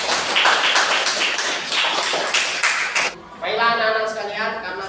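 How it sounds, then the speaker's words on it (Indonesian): Students clap for group 3 in a classroom, a dense round of applause lasting about three seconds before it cuts off and a voice begins speaking. "Kasih aplaus untuk kelompok 3."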